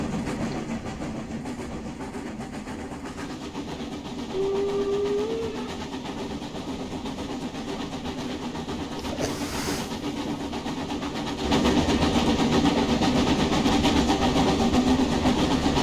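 A steam locomotive on the Brockenbahn Wernigerode to Brocken line in Train Simulator Classic rumbles steadily, a low continuous chuffing drone with a brief tonal whistle-like note, growing slightly louder near the end.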